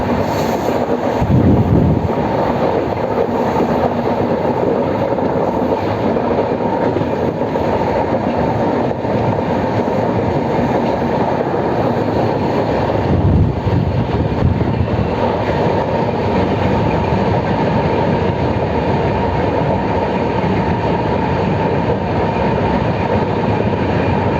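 The Kaziranga Express, Kolkata to Silghat Town train 13181, runs along the rails with a loud, continuous rumble and rattle of the cars, heard from on board with wind noise throughout.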